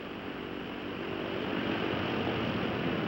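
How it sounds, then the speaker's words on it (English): Several piston aircraft engines on an airliner at Idlewild being run up and checked before takeoff, a steady, loud broadband roar that swells slightly partway through, with no talk. "And so on until all 4 engines have been run up and checked."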